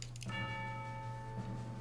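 A single boxing bell strikes at the start of a training montage in the 2015 film Creed, its clear metallic tone ringing out and sustaining faintly over a low, steady hum.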